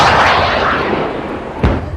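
A Carl Gustav M3 rocket launcher fires once, a single sharp, heavy blast near the end that follows a sustained rushing, breathy noise.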